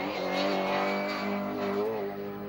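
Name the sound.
Mini Cooper S rally car driving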